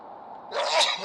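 A single close, loud sneeze bursts out about halfway through, following a quieter stretch of low background sound.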